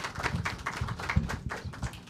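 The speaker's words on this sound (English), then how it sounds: "Let's give our students a round of applause" Sparse, uneven clapping from a small audience applauding debate students, a handful of separate claps tapping out at irregular intervals.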